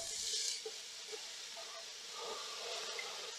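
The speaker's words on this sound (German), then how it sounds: "Dafür brate ich jetzt das Gemüse an" Shallot, onion and finely sliced leek frying in a pan, giving a steady, moderately loud sizzling hiss that runs continuously with slight swells and no talking.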